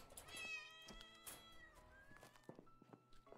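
A cat meows loudly and repeatedly in the video game Animal Shelter Simulator, drawn-out cries stacked close together over a faint background of game sounds, with no talking.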